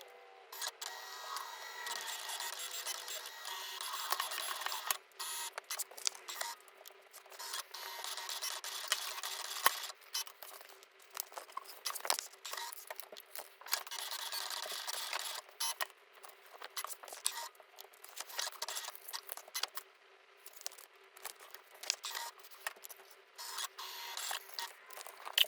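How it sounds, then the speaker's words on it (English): A Cricut Explore Air 2 cuts vinyl decals, a faint, thin mechanical whir and scratchy scraping with small ticks and shifts of the carriage, steady and continuous at low volume. "we'll go ahead and select load, and then we'll just go through and we'll get all of our different vinyl materials cut"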